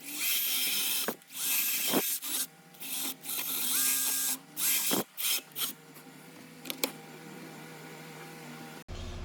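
Whining power drill with a step drill bit cutting through metal in bursts, starting and stopping repeatedly, up close with sharp grinding tones and short pauses between runs.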